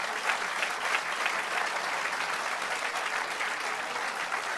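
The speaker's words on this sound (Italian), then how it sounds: "Allora un grande applauso." An audience at a public political meeting in Castelfranco applauds in a dense, sustained burst of clapping that holds steady for several seconds, with no talking over it.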